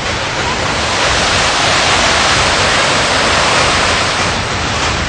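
Floodwaters of the swollen Ganga river rush through Haridwar after heavy rain, a dense, steady roar of churning water filling the whole span without letup.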